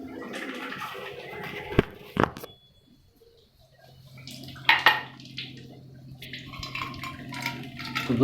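A Kangen water machine dispenses 9.5 pH water, a steady trickle and pour into a container with a few knocks and clinks, close by and fairly clear.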